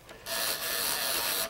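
Ribbon lever on a 1933 Underwood Champion typewriter spun for about a second, giving a close, steady ratcheting whir with no talk.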